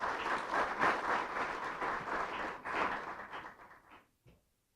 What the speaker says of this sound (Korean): 다시 한번 발표해 주신 김현명 교수님께 큰 감사의 박수 올려드리겠습니다